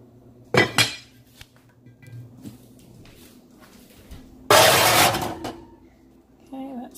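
A Dutch oven of beef pot roast set into an oven: a loud metallic clank and rattle early, scattered small knocks, then a long grating slide of the pot or rack, with talking nearby.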